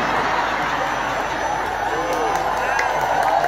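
A crowd claps and cheers loudly and steadily, a dense wash of applause with scattered whoops.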